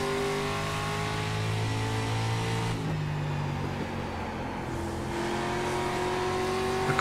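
Street stock race car in iRacing, its engine droning steadily at high revs with rising and falling harmonic tones as it laps the oval at Southern National Motorsports Park, loud and continuous with a brief dip in pitch midway.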